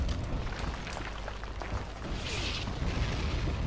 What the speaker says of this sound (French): Mais en fait, il y a des canons là-bas